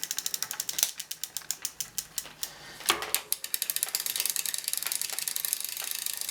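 Ratchet clicking on an old-school GT mountain bike during restoration: quick trains of crisp mechanical clicks, close and clear, in bursts with short pauses.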